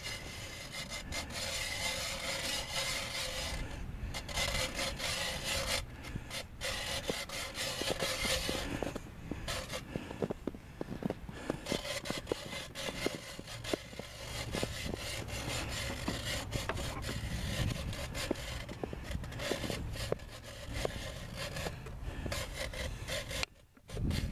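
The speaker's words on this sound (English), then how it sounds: "He's going to drill his first hole in the ice." A long, continuous grinding and scraping as a hand auger bores into lake ice at Antietam in February, steady and close, with brief pauses in the churning.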